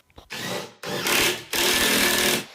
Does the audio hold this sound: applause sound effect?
no